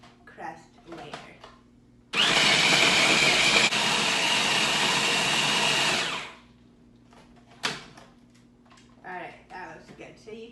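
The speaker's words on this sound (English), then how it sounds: "So you can see as you're blending it, it's going to start to stick together" A blender runs in one steady, loud burst for about four seconds, pulsing a crust mixture for chocolate dessert bars, with someone talking before and after the motor stops.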